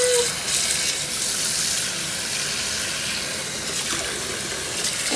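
Running water pours steadily from a tap as ear seeds are rinsed, a continuous bright hiss with a faint splash near the end.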